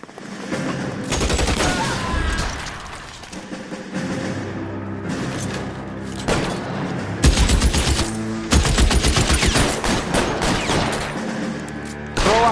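Rapid gunfire from a shootout in the L.A. Noire video game, dense bursts of shots and booming blasts crackling loudly throughout, with brief lulls between volleys.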